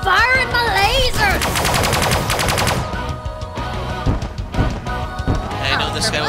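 Laser weapons fire in the space strategy game Sunrider First Arrival, a dense, loud burst of rapid repeating pulses with a rising zap, followed by scattered impacts and game effects under continuous busy audio.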